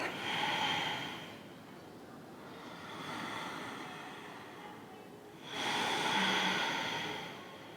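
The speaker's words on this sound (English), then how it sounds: "Feeling your belly and chest rising and releasing with your breath" Slow, deep breathing through the nose during a yoga session, with long airy inhales and exhales rising and falling in a calm, even rhythm, close and soft with no talk.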